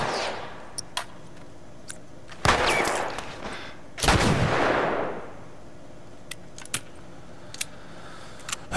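Gunfire in The Last of Us Remastered: two loud blasts with decaying rumbles, surrounded by scattered sharp clicks and small impacts in an otherwise quiet stretch.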